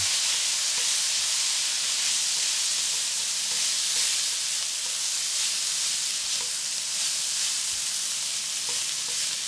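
Fried rice sizzling steadily in a hot pan right after soy sauce is poured in, a continuous loud frying hiss with faint scattered stirring clicks, no voices.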